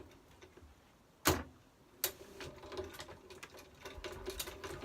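A sewing machine on a sewing machine table with a patcher foot that swivels in any direction, stitching around a patch: a few sharp mechanical clacks, then a steady run of quick rhythmic needle ticks, close and alone.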